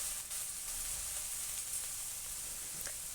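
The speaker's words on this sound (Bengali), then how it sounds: "চিংড়ি মাছটা ভালোভাবে তেলে ভেজে নিচ্ছি" Prawns frying in hot oil in a kadai give a soft, continuous sizzle with faint crackles throughout, quiet and even, with no one talking.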